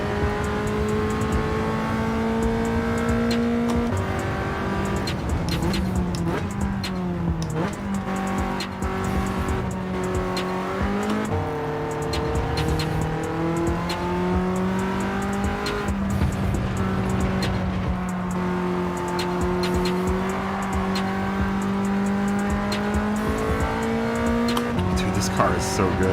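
Race car engine in the video game Gran Turismo 7 holds a loud, continuous drone, its pitch rising and falling through gear shifts and revs across the lap, with someone talking over it.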